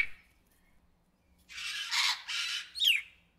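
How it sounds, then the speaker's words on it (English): A great green macaw gives a few harsh, grating squawks after a quiet start, two broad rasping calls followed by a sharper squealing cry, fairly close and alone. "Great Green Macaw."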